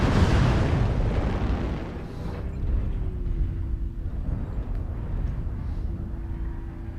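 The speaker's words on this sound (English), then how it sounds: "Homing missiles go homing on their targets like that." Homing missiles detonate on targets in a video game, a loud sustained rumbling boom that opens strongly and rolls on with continuous low blasts, a faint whining tone drifting through the middle.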